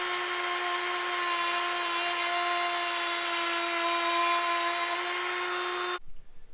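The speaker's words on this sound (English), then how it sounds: "I'll just change the tips on the Dremel tool and just grind some of these" A Dremel rotary tool grinds with a steady, loud, high-pitched whine that holds for about six seconds, then cuts off abruptly.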